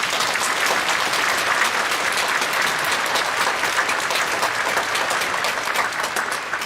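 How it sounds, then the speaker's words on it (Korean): A church congregation at a special early-morning prayer service applauds, a dense, steady wash of many hands clapping that fills the whole stretch at even loudness, with no talking over it. "그분들을 한번 격려하는 박수 한번 주세요."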